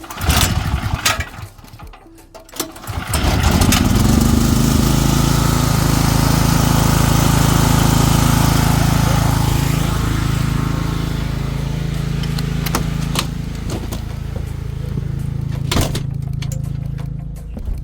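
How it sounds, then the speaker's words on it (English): Portable generator engine running outside an RV, starting with a few knocks and sputters and then settling into a loud, steady, close drone that holds for most of the stretch, with brief clunks near the end. "Outside start generator. Yeah, it's on."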